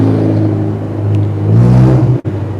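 A car passes close by on a road, its engine rumble swelling and then fading, with a brief sharp dropout near the end; no speech.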